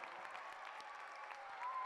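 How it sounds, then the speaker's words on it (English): An audience at a school function claps in dense, steady applause that holds for a couple of seconds, heard faint and at a distance. "Let's hear a big round of applause for Sabina."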